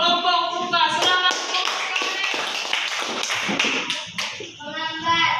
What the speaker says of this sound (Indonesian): tepuk tangan untuk kelompok Lukas